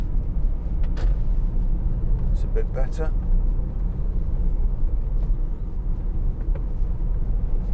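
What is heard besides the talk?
2018 Ford Transit Custom 2.0 TDCi van driving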